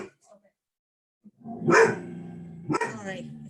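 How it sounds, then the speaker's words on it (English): A Vizsla dog barks sharply twice indoors, close and loud, with the barks separated by about a second of pause and a brief yip in between. "my dog now is going to have a bit of a heart attack"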